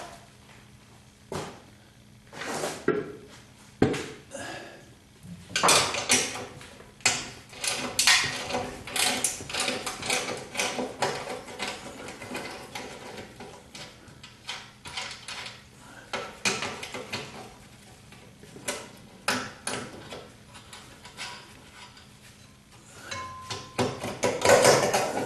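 Metal clanks, taps and ratcheting clicks as 9/16 nuts are worked off the spare tire carrier clamps of a 1976 Corvette, irregular and close with short pauses between bursts of activity.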